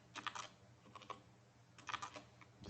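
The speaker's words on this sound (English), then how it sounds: "Excuse my typing." Someone types on a computer keyboard while writing Java code, quiet close-up key clicks in two short bursts with a pause between them.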